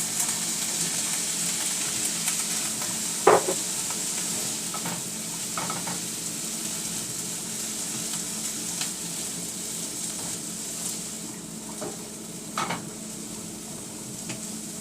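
Chayotes sizzle steadily in a hot pan for a vegan corn and chayote dish, with a few sharp scrapes and clinks as a utensil stirs them, close by and with no talking.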